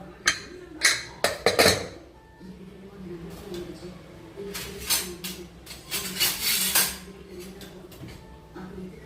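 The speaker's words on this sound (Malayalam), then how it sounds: "നമുക്കൊന്ന് തുറന്ന് നോക്കാം" A pressure cooker holding Bangalore-style rice bath is opened with sharp metallic clanks and rattles of the lid and pot, and then softer scraping and clinking follow, with speech around it.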